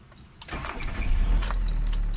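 The engine of a 2008 Hyundai Getz with a dashboard gauge blackout fault runs steadily after a brief click, a close, low idling rumble that holds through the rest of the moment.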